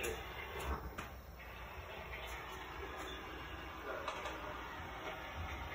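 A Savaria Concorde hydraulic wheelchair elevator at an art studio in Saint Petersburg, Florida runs with a steady mechanical hum, with faint clicks and knocks on top and a high whine throughout.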